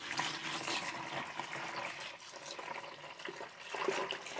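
Homemade strawberry kombucha pours from a jug into a 3-gallon bucket, a faint steady stream of splashing liquid that runs continuously and stays quiet.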